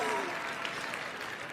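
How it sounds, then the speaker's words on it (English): Brief, faint applause from an audience, a soft wash of clapping at a distance with voices mixed in. "Y'all supposed to clap"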